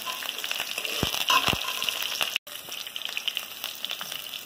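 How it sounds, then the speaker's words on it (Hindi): Steady close sizzling of chana dal frying in a hot pan for upma, with a few soft knocks and stirring sounds. "चना दाल फ्राई हो चुका है,"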